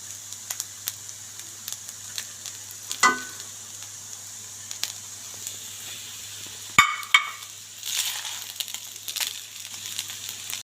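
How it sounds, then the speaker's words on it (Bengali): Fried egg added to a sizzling pan for fried rice, with a faint continuous sizzle under sparse scrapes and taps, a sharp clatter near the middle and a louder burst of frying and stirring afterward. "এখন আমি দিয়ে দিচ্ছি ভেজে রাখা ডিম।"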